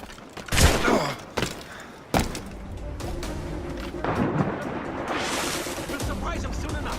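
Gunfire erupts in Assassin's Creed Rogue during a chase, with a loud burst of shots and booms near the start, then another sharp blast, over continuous game noise and background rumble.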